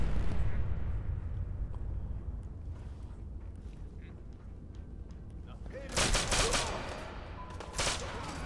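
Modded Fallout 4 gunfire on Xbox One: low rumbling battle ambience gives way to two loud, sharp bursts of shots near the end.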